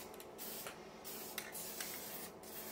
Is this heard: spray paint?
yes